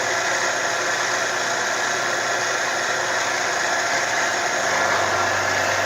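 A milling machine slots aluminum with a carbide cutter, taking roughly fifty-thousandths passes; a steady, loud mechanical drone with a constant whine that shifts slightly in pitch near the end.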